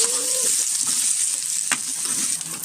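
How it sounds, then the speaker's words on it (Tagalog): Taro pieces for pork sinigang sizzle and crackle steadily in a hot pan as they are sautéed, a close, continuous frying hiss with a brief stir clatter partway through. "Transfer natin yung gabi, tapos gigisahin."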